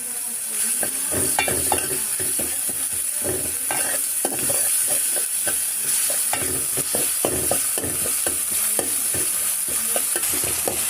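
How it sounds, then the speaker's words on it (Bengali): Onion and garlic fry in oil in a kadai, with a steady sizzle broken by repeated rhythmic scraping strokes of a spatula stirring the pan, close and continuous with no talk. "তারপরে একটা কড়াইয়ের মধ্যে পেঁয়াজ আর রসুন একটু কষিয়ে নেবেন পরিমাণ মতো তেল দিয়ে।"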